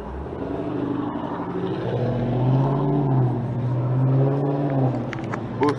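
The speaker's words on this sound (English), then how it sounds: "That motherfucker is loud." A boosted 800-plus-horsepower Dodge Charger SRT revs loudly and close by, its deep engine note swelling and easing in long repeated waves over a constant rumble.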